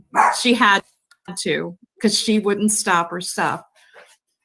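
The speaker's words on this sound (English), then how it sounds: "That's the dog. That's their dog." A dog barks in short bursts at home, mixed in and partly masked under a person talking close by.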